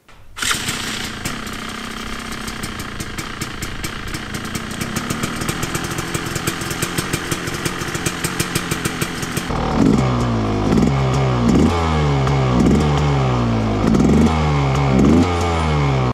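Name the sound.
dirt bike engine revving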